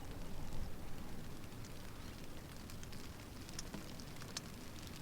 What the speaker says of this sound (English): Obviously, it's raining today.